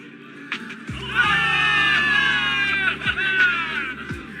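A large crowd in the video game Zenless Zone Zero cheers and shouts in a sustained roar, with high-pitched whoops rising over it and a few dull thuds underneath.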